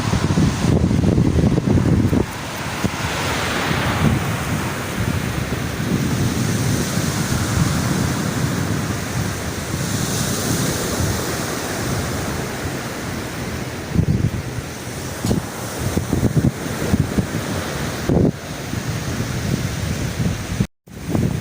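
Ocean waves break and wash continuously onto a sandy beach, a broad rushing roar with gusts of wind buffeting the microphone and no voices.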